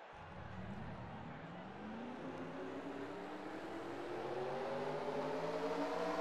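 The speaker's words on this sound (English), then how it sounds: "Drivers, start your engines!" Race car engines in a NASCAR-style racing video game at Daytona, a steady layered drone of engines revving and rising in pitch together, loud and continuous, building slightly toward the end with no talk over it.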